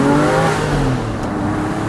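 A Porsche engine fitted with a lightweight flywheel revs up loudly nearby, a rising mechanical roar that holds steady before easing off slightly.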